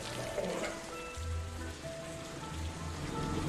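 Steady rain pours down, a dense continuous patter on hard surfaces with a low rumbling undertone throughout.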